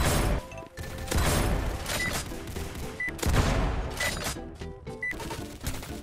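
Sniper rifle gunshots in a Roblox remake of Valorant, a series of sharp, loud game-weapon cracks spaced about a second apart, with clinking pickup-like tones between them.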